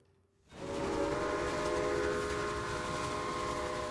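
A train runs in the Railway Empire video game, a steady rumbling roll with sustained whistle-like tones starting abruptly after a quiet half second and holding loud and close to the end.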